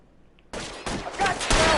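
Gunfire in the video game L.A. Noire, a sudden rapid volley of loud, close shots that breaks out of near silence and keeps going in dense bursts.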